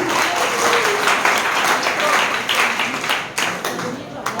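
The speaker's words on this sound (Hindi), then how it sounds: "जोरदार ताली होनी चाहिए," Loud, dense applause from a crowd at a leadership summit programme, steady clapping filling the room throughout with slight dips near the end.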